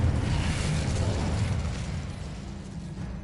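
Incendio fire spell cast in the Hogwarts Legacy game, a loud, dense rumbling burst of fiery noise that holds steady and then eases off slightly, with a low roar under the crackle.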